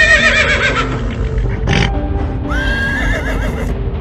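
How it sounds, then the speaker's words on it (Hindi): Cartoon horses neighing in fright, several loud shrill whinnies close up, one after another with a short noisy burst between them, over a busy background. "शॉन घोड़ों को डरते हुए देखता है"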